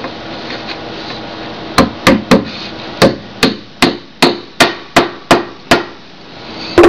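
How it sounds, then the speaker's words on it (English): Hammer tapping wooden pegs into hardwood stair treads, heard as a run of about ten sharp, evenly spaced knocks, close and loud, with no talk. "And I just tap them in snugly in place."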